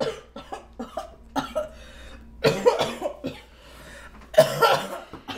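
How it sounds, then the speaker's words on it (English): Several bursts of coughing, some sharp single coughs and a couple of longer rough fits, close by with short pauses between them. "I'm coughing, bro."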